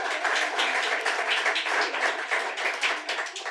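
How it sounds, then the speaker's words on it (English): An audience at a poetry reading celebrating Jerry Garcia claps steadily for a reader, a dense, even patter of many hands that holds at a moderate level throughout with no voices over it. "Round of applause for Amato."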